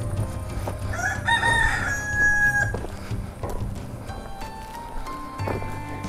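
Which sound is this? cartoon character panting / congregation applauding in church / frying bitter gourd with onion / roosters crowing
roosters crowing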